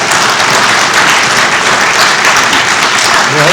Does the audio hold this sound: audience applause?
yes